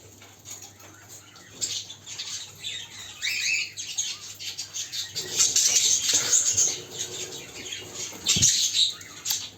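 A bird struggles and flaps its wings while being held by hand near a door, giving bursts of rustling, fluttering wing beats of varying loudness, close to the listener, with no talk.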